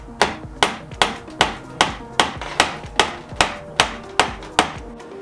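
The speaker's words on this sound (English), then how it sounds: "and this is chopping off the linoleum" Old linoleum being chopped off an RV floor during renovation demolition, a steady series of about a dozen sharp, loud, close impacts spaced roughly half a second apart.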